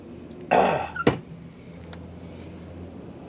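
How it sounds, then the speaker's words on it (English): A person blows their nose outdoors in cold air: one close, forceful, noisy honk lasting about half a second, then a short sniff, over faint background hum. "I gotta blow my nose real quick."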